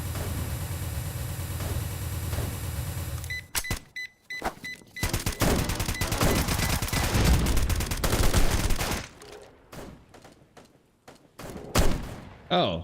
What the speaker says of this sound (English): Oh, who's fucking shooting at me?